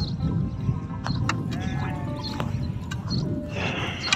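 Sheep bleat in short, harsh calls several times over a few seconds, heard at moderate distance amid outdoor background noise and some faint human voice.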